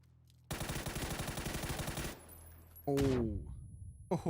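Bursts of automatic gunfire in a PUBG (PlayerUnknown's Battlegrounds) console esports match: a loud rapid burst of about a dozen shots, then a pause, then a sharp sweeping game sound effect and scattered further shots.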